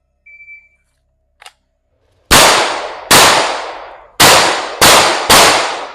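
Five loud pistol shots in a timed shooting drill, with a short electronic timer beep and a small click before them, the shots sharp and close in an uneven rapid sequence.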